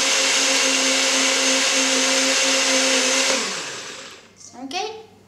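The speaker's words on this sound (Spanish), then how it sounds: "la vamos a poner en la licuadora" A kitchen blender whirs loudly and steadily, blending butter and garlic into a paste for a garlic sauce, then winds down and stops, followed by a brief rising and falling electronic-sounding tone.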